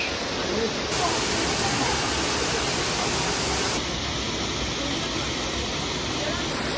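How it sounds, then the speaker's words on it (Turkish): A roadside waterfall produces a steady, loud rush of falling water, a continuous broadband roar that holds even throughout without pause. "şelaleye geldiğimize göre"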